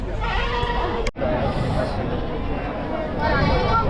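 Sheep bleat among a busy crowd at a large sheep and goat market in Chakan, Maharashtra, with a few calls rising over steady chatter and background hubbub.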